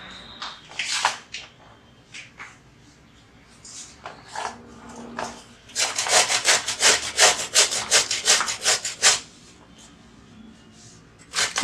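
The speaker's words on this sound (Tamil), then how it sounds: "அப்படியே தோலோடையே வந்து நம்ம திருவிக்கலாம்." Zucchini, skin left on, is rubbed against a grater in repeated strokes, sparse at first and then a fast, loud run of scraping passes near the middle.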